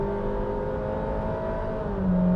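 A 2021 Honda City 1.5 VTEC with a CVT gearbox pulls hard at full throttle, its engine droning loud and steady from inside the cabin, with the pitch climbing slightly before a simulated shift.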